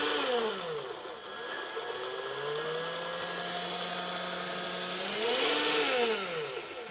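An HG-P407/P417 RC truck gearbox with metal gears runs close by as a smooth motor whine, its pitch steady, then falling and rising again as the speed changes, and no voices over it.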